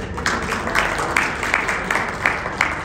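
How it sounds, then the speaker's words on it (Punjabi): Audience applause at a historic outdoor fair: a dense, steady patter of many hands clapping together at moderate distance, with faint crowd murmur beneath, lasting the whole short stretch. "ਤੁਹਾਡੇ ਵੱਲੋਂ ਜ਼ੋਰਦਾਰ ਤਾੜੀਆਂ ਬਣਦੀਆਂ ਨੇ"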